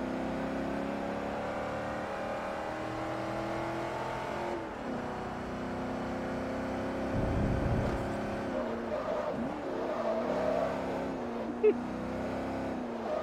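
Car engine in Forza Motorsport 3 during a Chevrolet track day, a steady droning hum that rises and falls with gear changes, with a brief low rumble near the middle and a sharp click late on.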